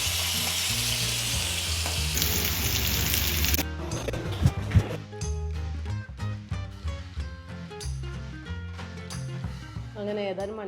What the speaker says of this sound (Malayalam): എന്നിട്ട് നമ്മൾ പൊരിക്കാൻ വെക്കും ഇങ്ങനെ ഓരോന്ന്